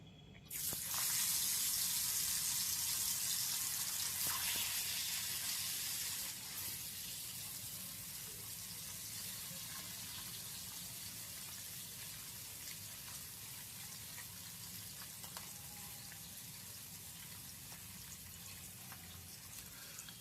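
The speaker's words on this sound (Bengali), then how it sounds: "মাছগুলোকে ভালো করে উল্টিয়ে পাল্টিয়ে লাল করে ভেজে নেব।" Salted, turmeric-rubbed bata fish frying in hot oil in a wok, a loud burst of sizzle at the start settling into a steady, close crackling hiss that continues alone.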